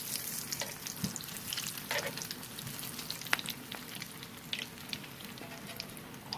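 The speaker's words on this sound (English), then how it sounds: "I'm basically frying one side, and then I'll end up rolling it around and fry up the other side." Steady crackling and sizzling of boudin balls frying in hot oil, with occasional sharper pops and a faint clink, no talking.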